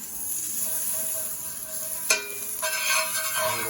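Butter sizzles in a smoking-hot cast iron pan, a steady close hiss broken by a sharp clack and then a brighter, louder burst of sizzle that continues to the end.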